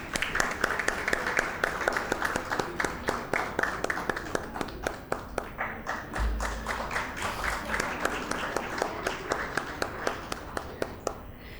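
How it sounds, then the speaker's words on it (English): Applause from an audience at a convocation ceremony comes as a fairly faint, steady rhythm of individual claps, with a few close, sharp hands standing out above the rest. "There are people at the back reminding the people in front to clap louder."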